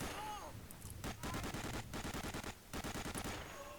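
Rapid automatic gunfire in the Medal of Honor: Allied Assault Breakthrough video game, loud bursts of closely spaced shots separated by short pauses, with some brief game sounds at the start and end.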